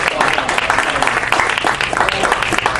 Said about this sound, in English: I'm going to give a round of applause for Terry.